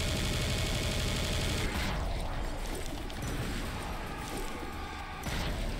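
Heavy gunfire from the main gun in the Serious Sam 3 video game roars continuously and loudly, a dense, sustained barrage with crashing impacts and no speech over it.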